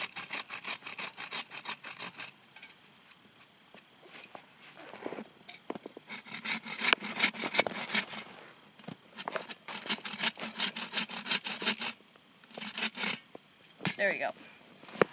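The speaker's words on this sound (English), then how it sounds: "Now create notches in the side to help hold the rope in place." Cutting notches into the side of a wooden stick for a spring trap gives close, uneven rasping and scraping strokes in bursts with brief pauses, loudest in the middle stretch.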